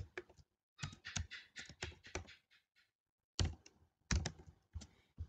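Code is typed on a computer keyboard in quick bursts of close, crisp key clicks separated by short silent pauses.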